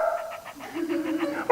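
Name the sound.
person imitating a dog barking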